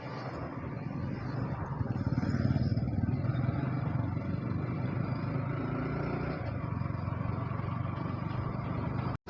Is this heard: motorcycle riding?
yes